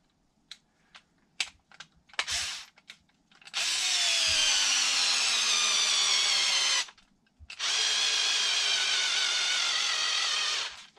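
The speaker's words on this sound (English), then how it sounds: "I'm going to go ahead and screw that in." A power drill drives a screw into the front bumper of a Traxxas RC car: a few light clicks, then two sustained whirring bursts of about three seconds each, close and loud, separated by a short pause.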